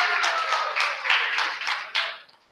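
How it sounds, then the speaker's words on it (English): A live audience breaks into a short burst of dense applause, a loud clatter of many hands that holds for about two seconds and then tails off quickly. "Huge round of applause for beer guy."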